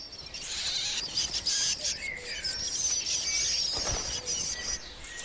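Young blackbird nestlings in a forest nest call continuously in high, shrill chirps, a dense overlapping chorus held close and steady throughout.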